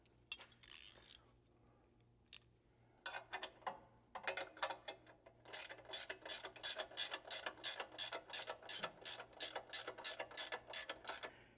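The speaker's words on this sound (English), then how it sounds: "we're going to go ahead and tighten the 4 1/2 inch bolts, front and rear" A ratchet wrench clicks steadily as it tightens 4 1/2 inch bolts on a rear differential skid plate of a 5th generation Toyota 4Runner, with a few scattered clanks at first, then a long fast run of close ratcheting.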